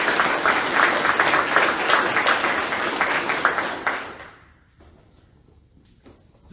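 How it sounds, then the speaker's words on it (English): Crowd at a Marine Corps recruiting station relief and appointment ceremony applauds, a strong dense clapping that runs for about four seconds before tapering off into a quiet room with small scattered noises. "please join me in a round of applause for fine Marines"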